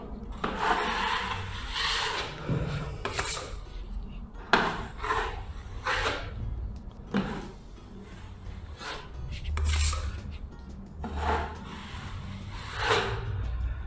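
Spatula smoothing wall putty over drywall in repeated strokes, a close scraping and rubbing rasp that comes in rhythmic passes with brief pauses, with no talking.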